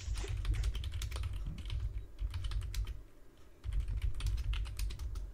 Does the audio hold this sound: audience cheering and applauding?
no